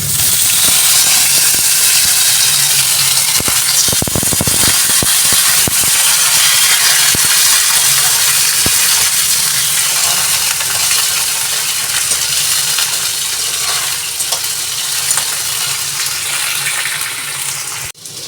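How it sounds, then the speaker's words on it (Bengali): Cut potatoes fry loudly in a pan, a continuous close hiss and sizzle broken by a few clinks and scrapes. "এবার যে আলুগুলো কেটে রেখেছিলাম সেই আলুগুলো দিয়ে দিচ্ছি।"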